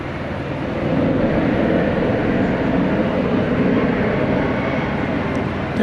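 An airliner taking off at night from runway 18 right at DFW Airport, a broad rumbling roar that swells after the first second and holds steady and loud, with faint radio chatter beneath.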